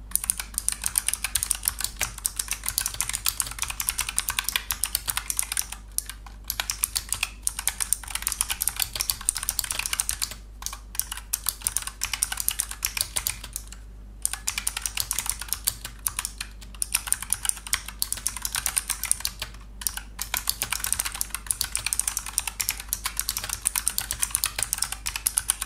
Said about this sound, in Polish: posłuchajcie, jak brzmią kliki fioletowe.